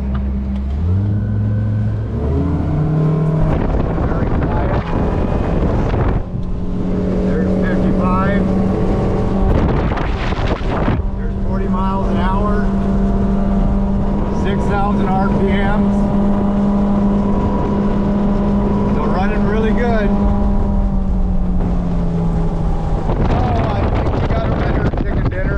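An outboard motor on an Alumacraft boat runs at full throttle on open water, a loud sustained engine roar that climbs in pitch early and then holds steady, with wind buffeting the microphone throughout.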